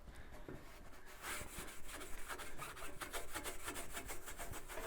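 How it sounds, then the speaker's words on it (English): Scrubbing inside an oven coated with a baking soda cleaning mixture, a faint rhythmic rasping of repeated back-and-forth strokes, fairly quiet and alone. "now all we're gonna do is give it a nice scrub."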